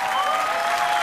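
Steady, dense audience applause fills the whole moment at a loud, even level, a continuous wash of many hands clapping without pauses or voices on top.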